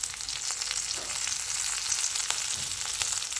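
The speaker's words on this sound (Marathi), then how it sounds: "टोमॅटो टाकायचा. हे छान व्यवस्थित परतून घ्यायचं." Tomatoes sauté in a hot pan, a steady close crackling sizzle with scattered sharper pops and faint stirring, no voices over it.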